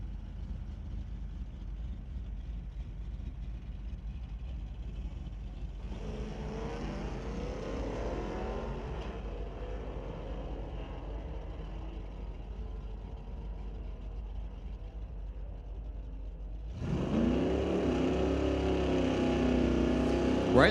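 Drag racing cars, including a Mustang in the right-hand lane, launch and roar down the strip at an NHRA Division 6 event at Mission Raceway Park, the engine noise heard from a distance and swelling loud near the end over a constant background rumble.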